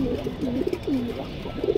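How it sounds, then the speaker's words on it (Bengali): Nafta pigeons coo in repeated rising-and-falling throaty calls, three or four distinct coos close at hand over a low background hum. "এই নাপ্তা কবুতরটা দেখেন"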